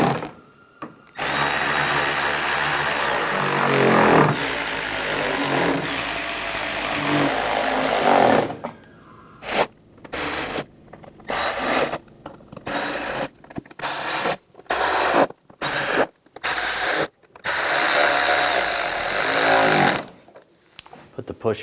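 A cordless power tool driving fender liner screws on a 2015-2020 Cadillac Escalade: a long continuous whir followed by a run of short repeated bursts with gaps between them, close and loud.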